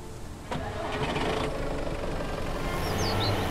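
A car engine in the survival game Mist Survival cranks with a sharp start, then settles into a steady mid-pitched idle, close and fairly loud, for the rest of the moment.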